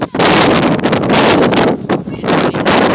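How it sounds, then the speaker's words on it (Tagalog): Strong, gusty wind in a rural field with light rain buffets the microphone in loud, continuous roaring bursts that barely let up. "mahangin dito"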